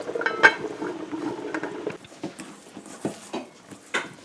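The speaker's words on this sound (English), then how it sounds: "So we are now mixing the dough here to make our dumplings." Dumpling dough for Guyanese metemgee being mixed in a bowl, with soft clinks and scraping of utensil against the dish in irregular bursts, fairly close and moderately quiet, no talking.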